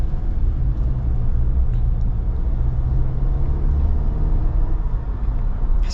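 Tire road noise fills the cabin of a 2026 Jeep Wrangler Rubicon Xtreme Recon on 35-inch tires, a steady, loud low rumble and hum while cruising, with no talking over it.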